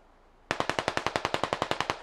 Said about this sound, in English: Efank is shooting at someone